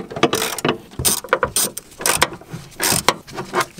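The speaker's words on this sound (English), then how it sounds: "we're going to go in with a 13 millimeter and we're going to undo this bolt right here" A 13 mm ratchet loosens a bolt on a BMW E46 M3 during a rear bodykit install, making quick bursts of clicking pawl sounds and metallic turning noises in an irregular rhythm, heard close up with no talking.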